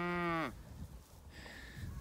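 A single loud, close cow moo with a strong harmonic call, from cattle grazing a grassy pasture after a drought, followed by quiet outdoor field ambience.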